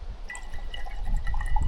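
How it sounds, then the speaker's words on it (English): Cold water splashes into a cup as a short, steady pour with light dripping and gurgling, heard close up with no one talking. "just a little splash of cold water."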